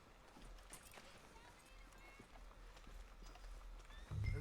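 Horse hooves clip-clopping in the Red Dead Redemption 2 video game, a steady trotting rhythm on a hard surface under low game ambience, ending in a sudden heavy thump.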